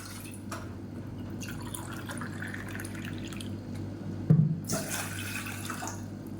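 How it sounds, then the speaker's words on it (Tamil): About 250 ml of water poured into a cooking pan in a home kitchen, a soft trickling and splashing over a steady low hum, with a brief louder splash near the end. "இதில் வந்து நல்லா ஒரு இரநூத்தி ஐம்பது எம்எல் அளவுக்கு தண்ணி சேர்த்துக்கலாம்"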